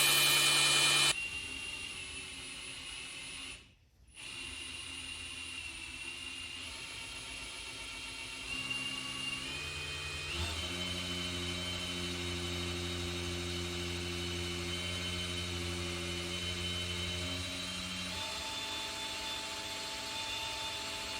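The engine of a 1959 NAPCO Chevy Apache 1-ton truck runs steadily after startup, a continuous droning hum with a brief dip early on, then settling into an even idle for the rest.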